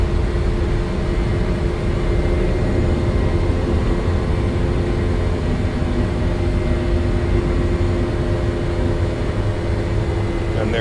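Airliner jet engines roaring steadily during the climb after takeoff in an E-Jet in Microsoft Flight Simulator 2024, a loud constant broadband rumble with a low drone and no letup for the whole stretch.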